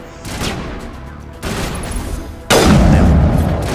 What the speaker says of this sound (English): Sniper rifle's overheating. Been firing it too much.